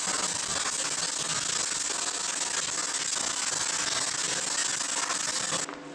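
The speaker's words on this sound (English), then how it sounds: "I'm gonna add a wee bit of weld everywhere." Welding on a steel rack gives a continuous, close, crackling hiss that holds steady for several seconds and stops abruptly just before the end.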